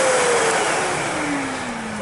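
A lift-away vacuum cleaner runs close and loud as a steady, rushing motor drone, its whine easing slightly lower over two seconds, with no talking.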